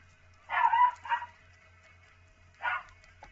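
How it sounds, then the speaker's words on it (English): Indoors, a pet dog gives a close bark, a short second bark, then after a pause a third, each loud and clear above a low steady hum. "I apologize for my dog."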